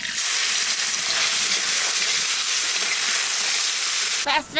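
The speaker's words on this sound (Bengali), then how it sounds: "মাছগুলো তেলের মধ্যে দিয়ে দেবো জিরে আর তেজপাতা পেঁয়াজ কুচি" Pieces of black carp fry in hot oil with cumin, bay leaf and chopped onion, giving a steady, loud, close hiss and crackle that breaks off near the end.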